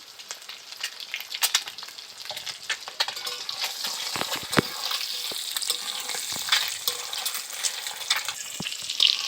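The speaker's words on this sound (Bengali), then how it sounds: "আমার ডিমগুলো প্রায় ভাজা ভাজা হয়ে গেছে" Eggs fry in hot oil in a pan for egg curry, crackling and sizzling steadily up close with scattered sharp pops and some stirring.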